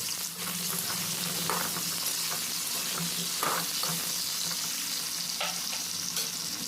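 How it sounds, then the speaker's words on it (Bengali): Small diced potatoes fry in oil in a wok with a continuous, moderately loud sizzle, broken by occasional stirring scrapes and taps. "আলুটা ভালো করে ভেজে নিতে হবে"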